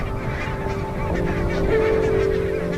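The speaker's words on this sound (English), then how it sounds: "Every winter, barnacled geese arrive right on cue at the same Scottish river" Barnacle geese honk repeatedly in a wintering flock on a Scottish river, overlapping calls rising and falling over a low background rumble with no talking.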